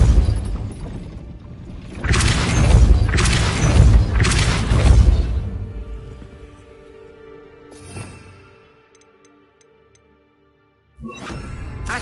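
A Depulso spell in Hogwarts Legacy shoves an object aside near a gate, heard as a loud, sustained rumbling boom with whooshing bursts, then a fading thud and a brief silence before more game sound resumes.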